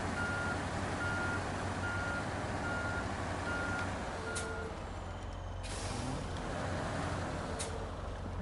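In the SnowRunner video game, a big truck rolls in reverse with a steady series of evenly spaced beeps over a loud engine drone, followed by sharp hisses of air brakes.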